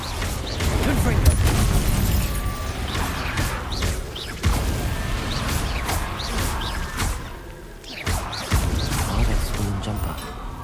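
Confringo explosive spell blasts in Hogwarts Legacy combat, a string of loud booming bursts and crashes that come again and again over busy game effects, with a voice talking throughout.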